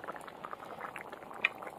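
Egg ghugni, a spiced curry of dried peas with eggs, bubbles at a steady simmer in a pot, giving a quiet, continuous boil with soft popping and no talk.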